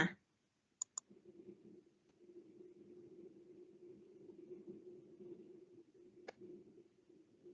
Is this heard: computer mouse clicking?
yes